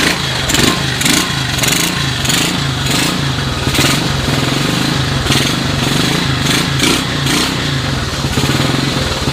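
A 1986 Honda TRX125 ATV engine runs from a cold start, loud and close, with a rough, pulsing putter and uneven bursts of throttle.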